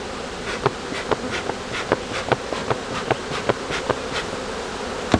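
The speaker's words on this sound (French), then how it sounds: "il y a énormément d'abeilles dans cette colonie-là" Dense insect buzzing from many bees in a hive colony, steady and close, with repeated sharp tapping or clicking sounds at irregular intervals; no voices.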